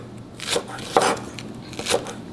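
Green onion stalk sliced diagonally with a knife on a board, three crisp separate cuts spaced about half a second apart, close and clear with no talking.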